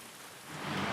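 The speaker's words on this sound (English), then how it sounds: "in the pouring rain, which it is here, which is quite fitting right now" Heavy rain pours onto a Seattle street as a dense, steady hiss that swells slightly louder over one brief second.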